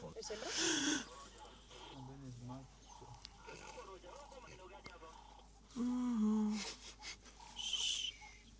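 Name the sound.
elephant snorting in the wild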